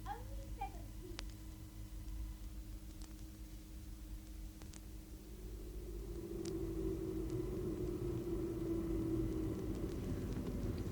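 A car engine rumbles low and steady through a radio drama scene, growing a little louder and fuller about halfway through, with a voice heard briefly at the start.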